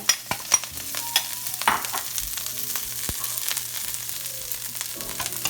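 Scallions, basil and fresh shaved garlic fry in grapeseed oil in a pan on high heat, giving a steady low sizzle. A few sharp taps and scrapes of stirring punctuate it, close by, with no voices.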